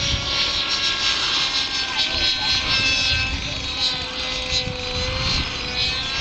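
A radio-controlled model helicopter with a 9cc engine flies and strains to stay airborne, giving a continuous high buzzing whine with steady rotor chop and slight pitch wavering as it moves overhead.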